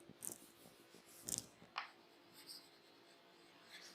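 Pen strokes of handwriting scratch softly and close up, with several short scraping bursts and quieter gaps between them.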